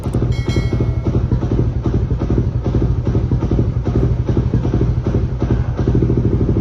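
A motorcycle fitted with an Aracer RC Mini X ECU, set up with an idle plus setting, idles steadily and close by, giving a continuous low, evenly pulsing engine throb with a faint clatter throughout.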